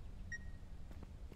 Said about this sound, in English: Is the beeping coming from inside the deer?